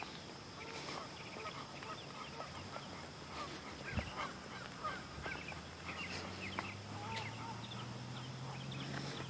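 Ducks honking and calling in a busy outdoor flock, repeated overlapping calls at moderate distance over steady background noise, with a brief louder thump midway.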